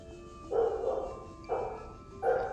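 Three short, muffled barks from dog-like creatures in the video game Subnautica, spaced about a second apart, fairly quiet and alone.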